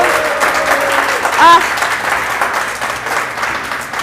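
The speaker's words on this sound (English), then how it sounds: "I want everyone to give themselves another round of applause for being so incredible" Steady applause from a live audience fills the whole stretch at an even level, with a brief tonal sound rising through it midway.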